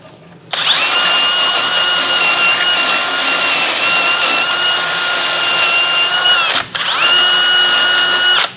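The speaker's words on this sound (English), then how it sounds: "So we're going to take the drill and" A power drill whirs loudly and steadily during rear brake pad and rotor work on a 2000 Chevy Silverado 1500 4x4, stopping briefly before starting up again at full speed.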